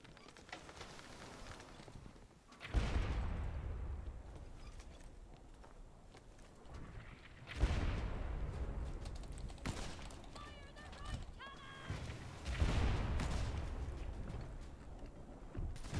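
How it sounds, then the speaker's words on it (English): Deep booming blasts roll out in three heavy waves a few seconds apart, each followed by rumbling decay, ship cannons firing in the pirate game Blazing Sails, with faint background activity. "Right cannons."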